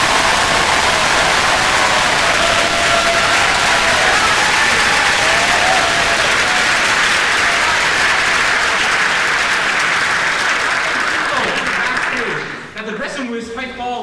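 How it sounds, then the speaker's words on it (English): Loud, sustained applause from an audience at a student international cabaret, dense clapping filling the space before tapering off near the end. "please give them a round of applause so they can hear us"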